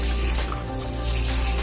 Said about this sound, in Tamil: தண்ணி நம்ம ஊத்த ஊத்த இந்த தண்ணி ஃபுல்லா அது இழுத்துக்குது